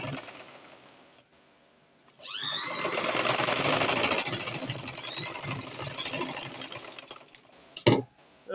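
A sewing machine back-stitches fabric for a dress with a plunging neckline. After a quiet start it whirs in a rapid, steady run for about five seconds, then ends with a few clicks and short bursts, close by and without speech.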